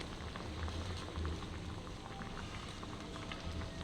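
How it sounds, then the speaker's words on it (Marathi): A pot of dal methi amti boils vigorously, giving a steady, soft bubbling and gurgling that stays fairly quiet and continuous with no voices. "खळखळून आमटी उकळते छान"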